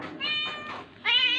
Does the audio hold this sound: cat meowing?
yes